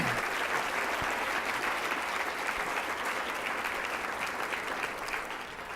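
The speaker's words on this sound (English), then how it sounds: "So, Owen, here's a round of applause for you." Sustained applause from a keynote audience, dense clapping at a steady loud level that fades slightly at the close.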